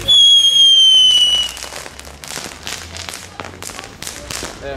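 Fireworks set off in the streets of Eindhoven: a whistling rocket screams first, then a string of sharp cracks and bangs pops at varying distances, loud and close, with faint voices in the background.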